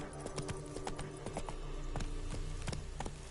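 Horse hooves clip-clopping at a steady gallop in The Witcher video game, a rapid run of sharp hoofbeats over a constant low game soundscape, with no talk.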